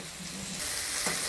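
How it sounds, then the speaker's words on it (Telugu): Okra dropped into hot tempering oil bursts into a loud, close sizzle that swells and holds steady over a brief moment. "బెండకాయలు అయితే వేసేస్తాను."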